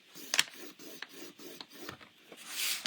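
A scoring tool is drawn along cardstock for a double gate fold card, making soft, close rasping strokes in a quick series of short scrapes, quiet and alone with no voices.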